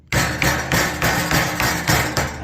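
A rubber mallet strikes sheet metal during the bending of a duct transition, about eight firm, evenly spaced blows ringing close and loud with no talking.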